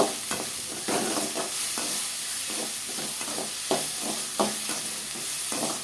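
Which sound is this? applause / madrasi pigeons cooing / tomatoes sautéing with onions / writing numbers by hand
tomatoes sautéing with onions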